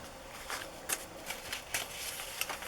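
Large paper cards being shuffled and handled, giving a soft, steady papery rustle with a few sharper flicks and slides, quiet and close, no talking.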